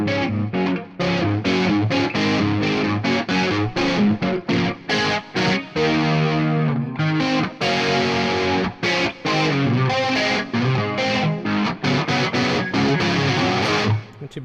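Distorted electric guitar played through a Line 6 Helix, loud continuous chugging riffs and sustained chords with short rhythmic breaks, no talking.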